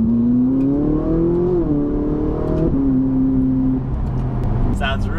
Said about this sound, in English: At low speeds, you can hear the exhaust valves open.